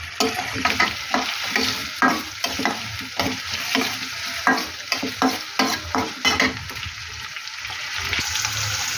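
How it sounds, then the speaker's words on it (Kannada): Onions frying in oil for chitranna, a loud, close sizzle with repeated rhythmic stirring scrapes of a spoon against the pan, easing toward the end. "ಹುರ್ಕೊತಾ ಇದ್ದೀನಿ ಎಣ್ಣೆಯಲ್ಲಿ. ಚೆನ್ನಾಗಿ ಈರುಳ್ಳಿ ಫ್ರೈ ಆಗಬೇಕಿದೆ"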